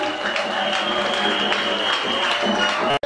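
A steady wash of audience applause fills a hall at the official launch event of the PEICM political party, sustained and fairly loud throughout before a brief cut at the end.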